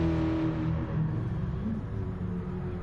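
Race car engine revving in a Gran Turismo-style Gr.4 racing video game at Sardegna, a steady droning rumble of engines held throughout at moderate loudness.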